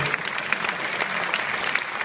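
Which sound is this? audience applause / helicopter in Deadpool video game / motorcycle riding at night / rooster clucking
audience applause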